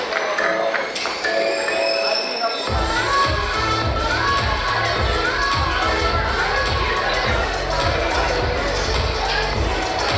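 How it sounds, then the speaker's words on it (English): A crowd at a wedding reception cheers and shouts steadily, with rhythmic thumping music underneath, loud and continuous throughout. "Have a nice round of applause once again out here."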